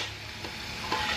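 Barbecue sauce for pork ribs bubbles and sizzles steadily in a pan, a close, continuous crackling simmer with no voices.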